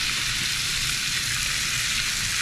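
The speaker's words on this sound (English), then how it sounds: "You can hear the sizzle." Chicken wings sizzle loudly in oil on a Blackstone griddle, giving a dense, continuous hiss from start to finish with no talking over it.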